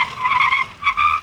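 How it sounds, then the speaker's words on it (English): A 2024 Volkswagen Taigun GT Plus Sport 1.5 TSI DSG braking hard for speed breakers on a road near Gurugram, with two loud, close bursts of tire squeal, the second shorter, and no talk. "brake hard for the speed breakers"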